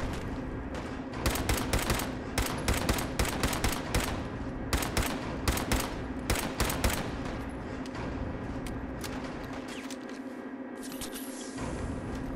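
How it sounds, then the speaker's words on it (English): Enemy gunfire in the Fallout 4 video game, loud rapid bursts of automatic shots in clusters, easing off near the end with a lingering ambient hum. "You're gonna fire at me?"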